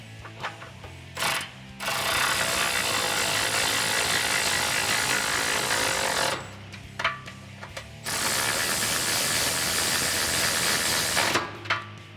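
A ratchet wrench with a 12mm socket runs bolts down on an N-Fab side step bar fitted to a Toyota Tacoma, making two long, fast clicking bursts with short pauses and a few single clicks between them.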